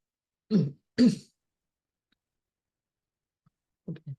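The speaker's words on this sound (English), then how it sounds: "I'm gonna cough." Two short, sharp coughs close together, then a brief pause and two quieter coughs or throat clears, with silence around them.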